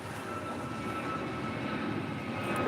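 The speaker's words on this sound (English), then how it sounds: "it's an A321neo" An Airbus A321neo airliner at LAX airport produces a steady, broad engine roar, constant and moderately distant throughout, with no talking.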